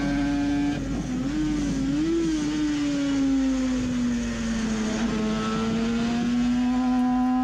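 Onboard engine of a Suzuki RG500 racing motorcycle at the Isle of Man, a loud continuous two-stroke howl held close to the mic, pitch dipping and climbing steadily as revs build, with wind rush throughout and no talk.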